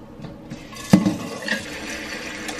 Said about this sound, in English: So right now I'm just gonna put the water to boil.